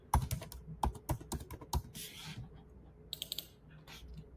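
Rapid typing on a computer keyboard, close and fairly quiet, with irregular bursts of key clicks, a brief pause, then a few more quick taps.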